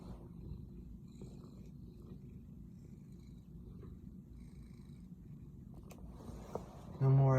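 A house cat named Smokey purrs softly and steadily up close, a low continuous rumble in a quiet room. A short louder noise comes at the end.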